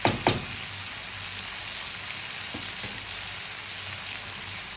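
Chicken browning in a pan for a bhindi masala dish sizzles steadily in close, moderately loud frying, with a couple of sharper spatters at the start.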